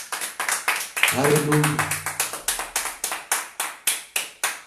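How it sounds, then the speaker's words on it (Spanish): A church congregation claps in praise, many hands striking together in an even, rhythmic beat of sharp repeated claps, while a voice calls out briefly over them. "Dale un aplauso al Señor."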